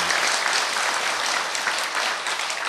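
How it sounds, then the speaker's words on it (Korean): Audience applause at a Buddhist temple anniversary Saturday dharma gathering, a dense, continuous burst of many hands clapping, loud and close, with no talk over it. "고마운 박수 주시기 바랍니다"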